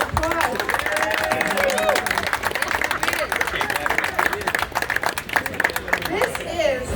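A crowd at the 190th anniversary party of Neir's Tavern, a New York bar, claps for the owner Lloyd, a busy burst of applause mixed with crowd chatter and voices.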